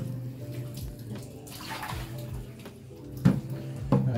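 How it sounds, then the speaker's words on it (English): Water is poured steadily over a bedpan held in a basin, splashing and trickling. The stream flows continuously at close range with a few louder sloshes near the end, and no one speaks. "we're going to start by washing or pouring water from the least contaminated area to the most contaminated area"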